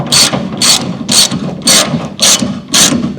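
A ratchet wrench makes the final tightening passes on the fender bolts of an International Scout under restoration. Six evenly spaced bursts of sharp clicking sound close and loud, with no talk.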